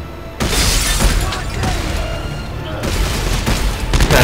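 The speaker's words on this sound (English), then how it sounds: "Man, this gun is overpowered." Rapid bursts of gunfire from an overpowered three-laser gun in Dead Space 3 co-op, loud crackling volleys with sharp cracks, pausing briefly before resuming.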